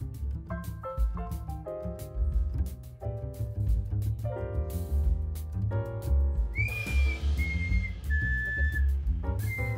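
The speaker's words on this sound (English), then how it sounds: "Go get my other slide whistle." Slide whistle sliding between pitches in several short rising and falling glides near the end, loud over busy background music, following a stretch of layered melodic sound.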